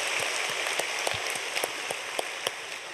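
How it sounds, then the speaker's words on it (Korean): Congregation at an early-morning church prayer service claps for the children, a spread-out round of applause with scattered sharper individual claps standing out, moderately loud and continuous. "오늘 또 우리 앞에 우리 아이들을 위해서도 박수 한번 치겠습니다"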